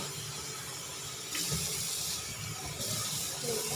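Tap water running while coriander and other fresh herbs are washed for a Thai steamed fish dish, a steady close hissing flow that grows louder partway through, with no talking.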